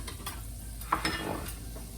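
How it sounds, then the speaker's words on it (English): Ground beef sizzles steadily in a pan while onion and garlic are tipped in and stirred, with scraping and a brief louder clatter over the continuous frying hiss. "now that my ground beef is perfectly cooked, I'm gonna add my onion and garlic to the pan"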